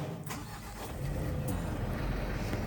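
A car engine is started, a short cranking burst catching into a steady running rumble that stays close and fairly loud throughout, with no voices.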